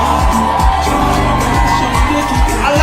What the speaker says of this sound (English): Don't stop clapping. Don't stop cheering.